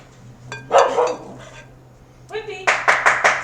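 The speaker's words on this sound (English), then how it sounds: "there's no barking at people outside" Whippy, a small 23-pound pet dog, gives a couple of sharp barks followed by a quick run of four yappy barks, close and clear, with a person talking around them in a home kitchen.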